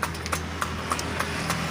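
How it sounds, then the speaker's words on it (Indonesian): Pony hooves clip-clop in a steady, evenly spaced rhythm as a small horse pulls a delman cart around the Alun-Alun Kidul near the Kraton Surakarta, with a constant low rumble of wheels and street background beneath. "Kuda poni."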